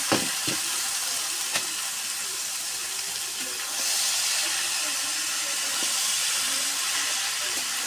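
Steamed banana blossom is tipped into a pan of browned onion and chili, giving a loud, continuous sizzle and hiss with a few sharp clicks, and the frying swells partway through, with no talking.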